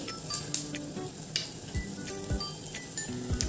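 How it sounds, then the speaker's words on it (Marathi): Cumin and mustard seeds crackling in hot oil in a kadai on a gas stove, soft sizzling with scattered sharp pops and occasional clinks of a spoon against the pan. "जिरे मोहरी तडतडले की त्यात आपण कांदा टाकणार आहोत"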